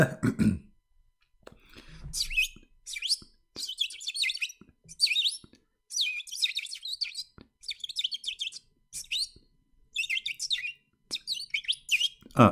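A bird chirps in quick high bursts, a string of bright repeated tweets separated by short gaps, close and clear, with a throat-clearing sound at the start.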